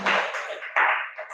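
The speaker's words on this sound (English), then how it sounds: "Give her a round of applause" A short round of applause from a room of children and adults: a sudden burst of clapping that fades, then a second swell, close and fairly loud.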